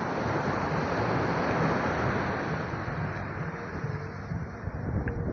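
Sea waves washing onto the shore along the seafront at Finale Ligure, a steady broadband roar of surf mixed with wind buffeting the microphone, with no pauses throughout.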